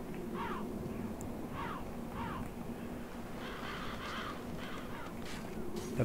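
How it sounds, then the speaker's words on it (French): A crow in the Demon's Souls video game caws repeatedly, the harsh calls set a little back and steady against a constant low ambient rumble, with no talk over them. "À part le corbeau qui s'envolait."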